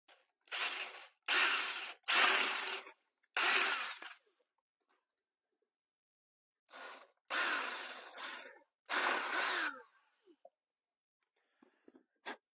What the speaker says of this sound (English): I've got this drill that I'm going to use to cut a little pilot hole